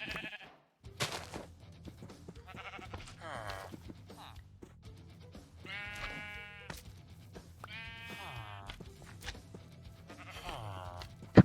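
Sheep in the video game Minecraft bleat several times, their wavering calls coming in separate bursts over soft clicks and game sounds.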